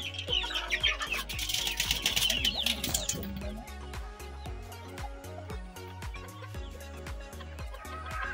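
A silky hen and native chickens cluck and squawk at feeding time, busy and close during the first seconds, then sparser clucks over a steady rhythmic musical backing.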